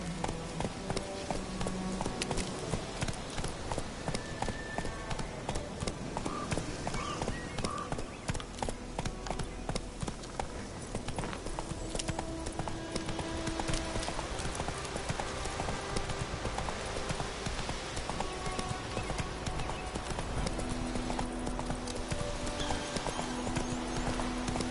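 Roach, the horse in The Witcher 3 game, clip-clops along in a steady run, hooves pounding continuously and close, with an occasional snort or whinny over the rhythmic beat.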